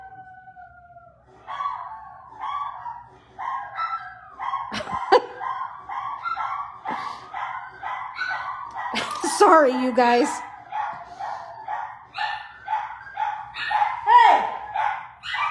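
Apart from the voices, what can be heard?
dog Brian barking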